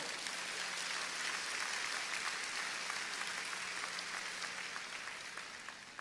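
Applause from a church congregation, with sustained dense clapping that sounds somewhat distant and gradually thins and fades toward the end.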